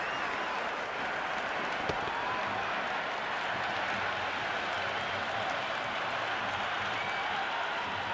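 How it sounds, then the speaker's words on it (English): A cricket video game crowd roars and applauds after a six in an IPL match between MI and CSK, a dense, continuous wash of cheering and clapping with one sharp tap midway. "The crowd is electric right now."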